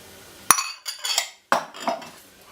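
A metal whisk beats eggs and sugar in a bowl, giving two sharp clinks against the rim, each followed by a short scraping, rattling clatter, close up with no talk.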